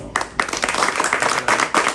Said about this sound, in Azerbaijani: Gəlin, bugün kimlərin ad günüdürsə, onlara alqışlayaq